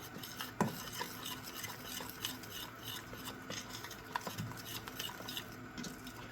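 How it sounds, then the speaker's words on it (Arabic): A ladle stirs Tunisian mloukhia in a pot, making steady scraping and clinking against the metal in a continuous irregular rhythm, close and moderately loud, with a couple of sharper knocks; no one talks. "نحركوها بالقدا"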